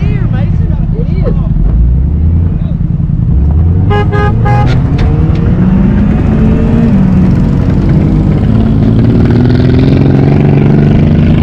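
A junk car's engine runs close by, its revs rising and falling in long swells, with a brief horn toot early on and voices talking over the motor throughout.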